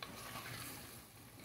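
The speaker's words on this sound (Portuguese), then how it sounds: "Coloquei na panela o camarão, ó. Vocês vão mexer," Shrimp stirred in a clay pot over heat, with a steady sizzling frying hiss and scraping stir noise running continuously at close range, no voices.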